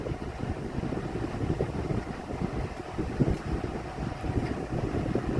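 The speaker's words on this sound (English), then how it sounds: "This thing is kind of out of balance, so. And I can still hear a lot of rattling going on." A Vornado Silver Swan desk fan runs out of balance, giving a continuous low whooshing roar with a faint rattle mixed in, close and steady throughout, with no voices.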